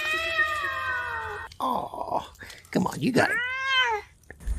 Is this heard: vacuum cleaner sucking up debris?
no